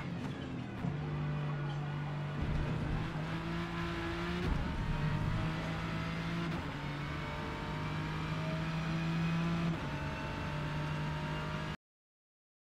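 A Ford GT LM race car engine in the Forza racing game drones at steady, light throttle around the Kyalami circuit, a sustained mid-pitched tone with a few gear-shift steps and rises, constant and close.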